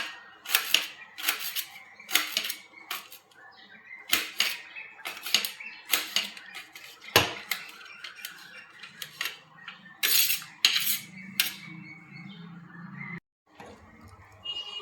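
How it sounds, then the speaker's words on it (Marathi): A knife finely chops raw mango on a board in a series of sharp, quick taps that come in bursts, close and crisp, with brief pauses between them. "इथं आपल्याला कैरी बारीक चिरून घ्यायची आहे."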